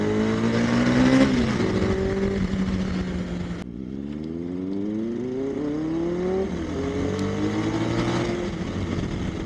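A Benelli 600i motorcycle revs its exhaust hard, with rising and falling engine pitch sweeping through several throttle blips, a sharp cut-off and a second climb, loud and close with no talking.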